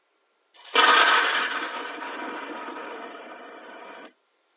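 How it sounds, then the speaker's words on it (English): A baseball bat chained to a wall in a public art installation strikes the wall, setting off a long bright metallic ringing that shimmers and swells briefly before cutting off. "the installation involves hitting the wall with a baseball bat"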